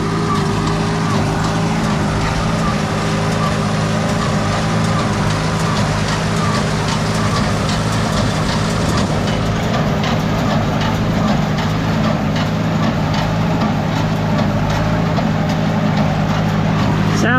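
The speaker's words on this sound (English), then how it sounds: "Sounds like it's handling the plunger strokes okay." A Case 730 tractor running a hay baler, steady loud low engine drone close by with a regular rhythmic pulse of plunger strokes throughout.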